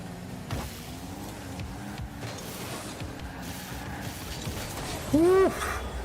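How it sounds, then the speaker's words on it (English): Car sliding and skidding in the Rocket League video game, a continuous engine and tire rush with a short louder squealing burst near the end, alone with no talk. "That power slide there."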